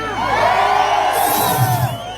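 A crowd at a lively farewell gathering in Nyandarua, Kenya, cheers and whoops together. Rising and falling shouts stay close and loud throughout the short burst.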